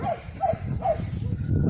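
Guard dog performing at a show gives several short barks and yips in a quick series, fairly close, over crowd and background noise.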